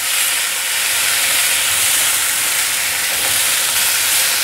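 Potatoes, tomatoes and celery stir-fry in a hot wok, producing a loud, continuous hissing sizzle with faint tossing movement, close and steady throughout with no talk.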